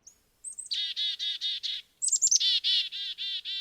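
A small chickadee gives rapid, buzzy, agitated repeated calls in two bursts, each opening with high thin notes followed by a string of harsh, insistent buzzes, close and clear.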